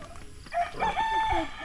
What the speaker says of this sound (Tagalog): Yan o. Yung inahin natin.